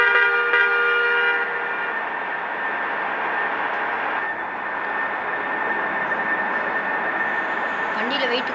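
A loaded bus in Salem drives along a rough road, its engine giving a steady, droning hum from inside the cabin with a faint tonal whine, loud and unbroken, while someone talks.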